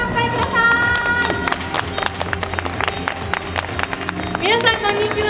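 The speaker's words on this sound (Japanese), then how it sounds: "大きな拍手でお迎えください。" Audience applause and cheering welcome a Disney-loving influencer onto an event stage, a loud steady wash of clapping with crowd voices and background music lasting throughout.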